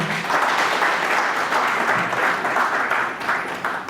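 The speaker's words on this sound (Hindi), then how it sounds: "इस प्रोडक्ट के लिए एक बार जोरदार तालियां हो जाएं" Loud, dense applause from a seminar crowd cheering a wellness product, continuous and close throughout with no pause.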